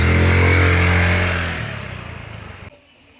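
A scooter rides back toward Ubud, Bali, its buzzing engine loud and close at first, then easing off and fading to quiet before an abrupt cut.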